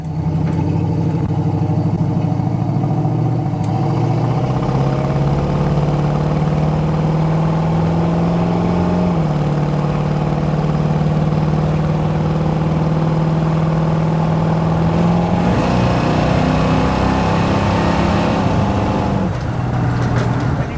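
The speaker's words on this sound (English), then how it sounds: "we can go ahead and get in the throttle here a little bit" A 1966 Chevrolet C10 pickup with a 350 V8 pulls steadily under throttle, its engine drone rising and shifting pitch as it accelerates continuously, loud and close from inside the cab.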